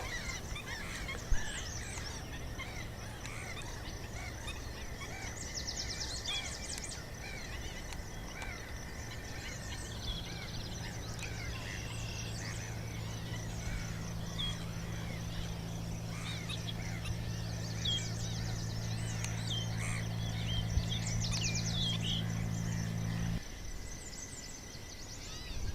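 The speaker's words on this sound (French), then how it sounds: "des colonies d'oiseaux libres et insouciants hivernent et nichent" Colonies of wintering and nesting birds on abandoned salt marshes of the Île de Ré: a dense, continuous chorus of honking, goose-like calls and chatter from many birds, with a steady low drone beneath.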